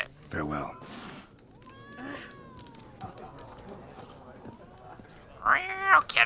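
A cat in The Witcher lets out short meows, a brief one near the start and a louder, higher pair toward the end, with game music and ambient sounds filling the gap between.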